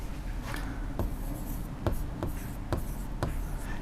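A pen scratches across paper while accounting entries are written, in a series of short strokes with sharp taps between them, close and clear.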